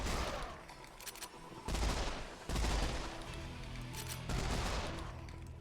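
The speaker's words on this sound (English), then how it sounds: "we're going to use a pistol a little bit" Pistol fire in the Serious Sam 4 video game comes as several sharp shots spaced about a second apart over dense, noisy game sound effects.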